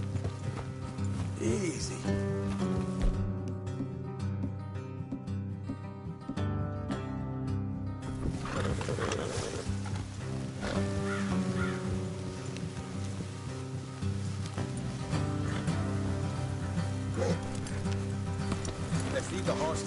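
Horses clop along at a steady walking pace amid Red Dead Redemption 2 game music and ambience, with a brief spoken word partway through.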